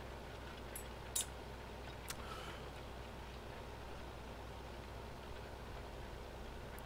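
A tractor engine idles steadily in the background, low, quiet and droning, with a couple of brief clicks near the start.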